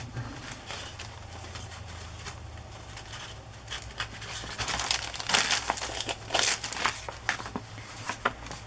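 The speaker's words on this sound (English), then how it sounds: "The old cellophane tape that turns yellow." Old yellowed cellophane tape crinkles and crackles in close, irregular bursts while paper pages are handled, louder and busier in the second half, with no talking.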